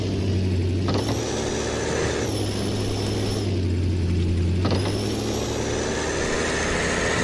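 Toyota Tundra trophy truck engine in Offroad Outlaws droning loudly and continuously, with a high whine that holds, drops, then climbs again as the automatic transmission hesitates to downshift.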